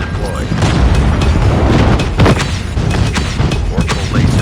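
Napalm airstrike blasts in Call of Duty Mobile on the Shipment 1944 map during a 10v10 Domination match: a loud, dense wall of booming explosions and crackling impacts that roll on without a break.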